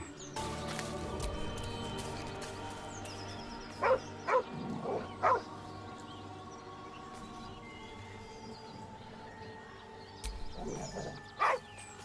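A dog in the Baldur's Gate 3 video game gives a few short barks and yips at a campsite scene, set against a steady hum of ambient game music and background noise.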